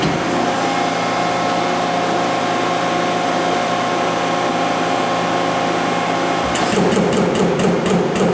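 An Extrude Hone Spectrum Series 10/8 one-way abrasive flow machine hums loudly and steadily up close, then a hydraulic booster kicks in near the end with a shift in tone and a quick run of rhythmic clicking pulses.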